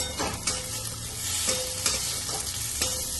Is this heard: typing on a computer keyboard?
no